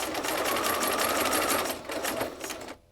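An old Singer sewing machine set in a cabinet runs under foot-pedal control, whirring at a fast, steady stitching rhythm close by for a few seconds before it stops abruptly.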